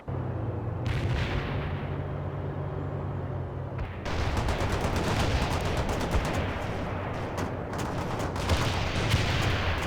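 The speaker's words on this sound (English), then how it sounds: "They're shooting at us!" Battle in the real-time strategy game World in Conflict, with dense, continuous gunfire and artillery-like bursts over a low rumble, growing busier and louder after a few seconds.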